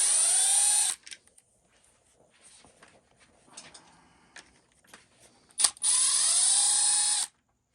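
A power tool whirs loudly while removing shock mount screws on an XRT truck, in two strong bursts about a second each, with quiet clicks and handling noises between them.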